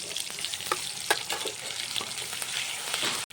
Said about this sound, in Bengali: এবার আমি দিয়ে দিচ্ছি আদা, জিরে আর লঙ্কা বাটা।